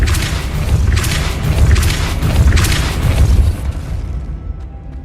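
A Depulso spell blast fires in the Hogwarts Legacy video game as a loud, heavy, rumbling boom with several rolling pulses, fading out over a few seconds.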